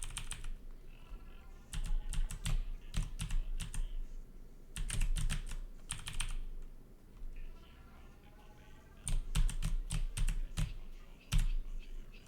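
Close computer keyboard typing of ordinary words, clattering in quick bursts of keystrokes separated by short pauses, fairly loud and with no other sound over it.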